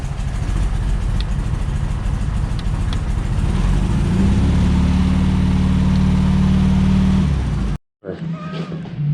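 A Baja Bug's engine runs right after its first start, a loud, close, rough idle that rises into a steadier higher drone, then cuts out abruptly before a brief restart of rumble at the end.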